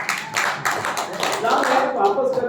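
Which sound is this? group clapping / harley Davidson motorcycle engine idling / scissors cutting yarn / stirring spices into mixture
group clapping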